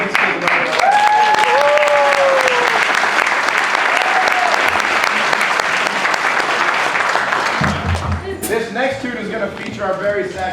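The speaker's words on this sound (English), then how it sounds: "please give this kid a round of applause" Sustained audience applause fills a school jazz concert hall, loud and steady with a few whoops, before tapering as a voice begins talking near the end.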